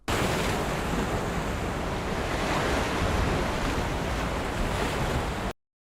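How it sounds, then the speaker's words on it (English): Ocean waves wash in a steady, broad rush with some wind, a continuous soft surf ambience that cuts off abruptly at the end. "the album closes on a quiet ambient of the ocean"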